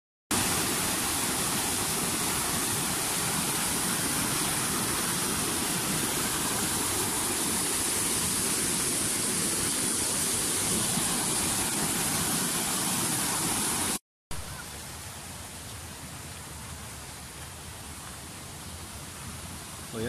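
Simba Fall, a waterfall near Manikhel in Lalitpur, Nepal, roars as a steady, dense rush of falling water close by, with a brief cut and then a slightly softer continuation of the same torrent.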